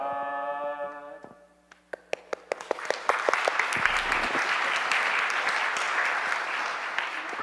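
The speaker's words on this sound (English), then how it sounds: "I think it's a-okay to offer our applause there" Congregation applause in a church during a children's sermon, rising from scattered claps after a sung tone into sustained, dense clapping that fills the room.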